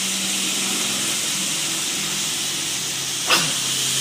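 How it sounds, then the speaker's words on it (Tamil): Mustard and fennel seeds fry in hot oil with a loud, steady hiss and faint crackle, ending in one sharp pop near the end. "இப்போ நாம் வந்து கடுகும் சோம்பும் ரெண்டு கலந்தாப்பில் போட்டிருக்கோம்."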